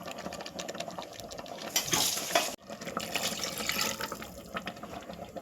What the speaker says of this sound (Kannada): ಇದಕ್ಕೆ ನಾನು ಸ್ವಲ್ಪ ಮಿಕ್ಸಿಲಿ ಇದ್ದಿದ್ದ ನೀರೆಲ್ಲನೂ ತೊಳೆದು ಇದರೊಳಗೆ ಹಾಕ್ಕೊತಿದ್ದೀನಿ